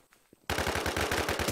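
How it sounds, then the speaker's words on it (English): Rapid automatic gunfire bursts out loud and close in a PvP shooter video game after a quiet moment, with a fast rattling rhythm of shots. "I'm shooting at them"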